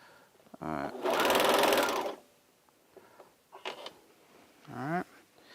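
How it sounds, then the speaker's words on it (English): A Juki MO2000QVP serger sews a shirt seam closed in one loud burst of rapid, buzzing stitching that lasts about a second. Quieter handling clicks and a brief voice follow. "we'll just serge it closed"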